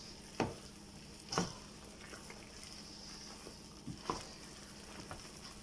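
Sticky caramelized almonds being stirred in a pot, with faint scraping under a soft steady sizzle and a few sharper scrapes or knocks standing out at intervals.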